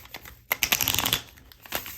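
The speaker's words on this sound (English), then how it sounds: "I'm just going to go ahead and start by shuffling your tarot" Tarot cards shuffled close up, giving brisk papery riffling and rustling in quick bursts, loudest in the middle stretch and easing off toward the end, with no talking.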